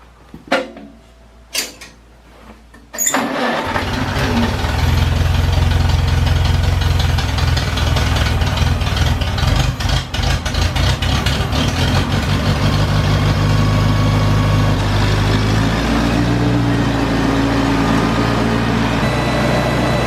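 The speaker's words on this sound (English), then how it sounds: "now I need to start the tractor, get it warmed up, and move it outside" A few clicks and cranks, then a Farmall Cub diesel tractor engine fires up loudly at about three seconds and settles into a steady, rumbling idle.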